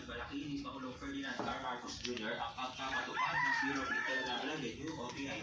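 Chickens cluck steadily while a rooster crows nearby, with a person talking over the farmyard noise.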